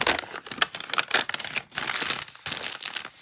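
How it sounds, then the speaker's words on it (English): Paper being ripped and crinkled close up, a run of loud tearing bursts with brief pauses, no voices. "You're hearing me rip some paper. This is what I'm doing. I'm ripping a piece of paper."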